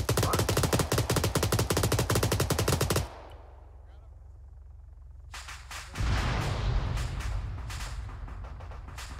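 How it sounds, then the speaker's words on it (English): Automatic enemy gunfire in the military shooter game Arma 3: a dense, loud burst of rapid shots for about three seconds, a brief lull with distant crackle, then heavy sustained firing and rumbling returns. "That's enemy fire."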